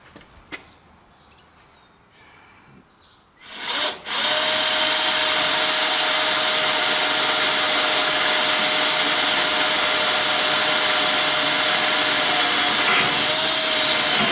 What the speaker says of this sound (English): he's just drilling.